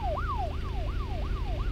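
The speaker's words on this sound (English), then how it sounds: "Oh, it's an ambulance." An ambulance siren in the City Car Driving simulator wails in fast repeating rise-and-fall sweeps, loud and steady over a low engine and traffic rumble.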